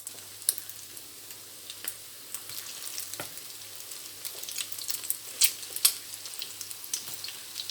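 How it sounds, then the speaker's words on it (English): French toast sticks frying in hot oil, giving a steady close sizzle with scattered crackles and pops throughout, no voices heard. "place it gently in the oil"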